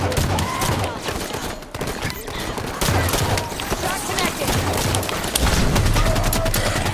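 Grenade blasts and rapid gunfire in a Halo 5: Guardians Warzone Firefight match, loud and continuous with heavy booms throughout, a voice speaking over the chaos.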